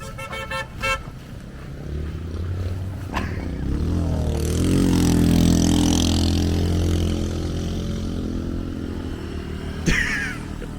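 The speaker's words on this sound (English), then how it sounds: "Back to the motorbikes." Motorbike engines rumble steadily and close by on a mountain pass in Vietnam, with a rising rev in the middle and a brief horn toot near the start, and no voices.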